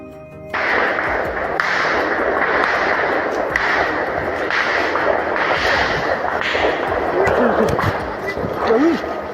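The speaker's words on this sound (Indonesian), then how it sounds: "terdengar bunyi tembakan dari arah berlawanan" Sustained heavy, dense noise of continuous gunfire from an armed clash in Papua, loud throughout with overlapping bursts and some muffled voices.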